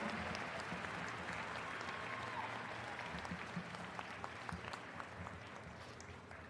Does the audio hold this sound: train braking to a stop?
no